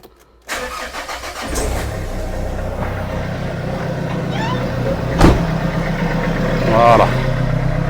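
Renault 1.5 dCi diesel engine cranks and catches after an injector seal replacement, then settles into a steady, loud idle close by, with a faint voice and a brief knock partway through.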